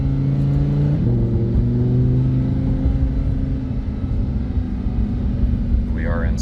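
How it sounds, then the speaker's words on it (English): A 2016 Lamborghini Huracan in sport mode, its engine holding a loud, steady drone with shifting pitch as it pulls along, heard from inside the car. "You can hear the exhaust crackle."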